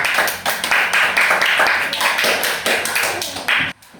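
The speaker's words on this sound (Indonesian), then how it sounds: "Tepuk tangan kembali" A class of students applauds again after a group presentation, sustained clapping from many hands that stops abruptly.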